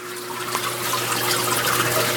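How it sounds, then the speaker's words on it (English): Water pours steadily down into the top of an aquarium filter fed by a custom-made manifold, a close, continuous splashing trickle over a faint steady hum. "kind of a neat shot there of the water pouring down into the top of the filter"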